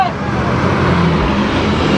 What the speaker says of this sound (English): the bus is very loud.